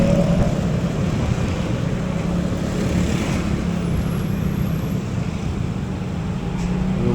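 Steady low rumble of slow road traffic and engines on a congested road heading into Cianjur city, heard from a motorbike ride from Cimahi to Bogor via Puncak, continuous and fairly loud with no talk.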